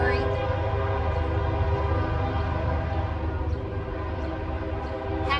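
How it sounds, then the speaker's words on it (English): A train rumbles steadily past as its horn sounds in a sustained, layered blare, loud and near throughout with a low rolling drone underneath. "I like the sound of a train"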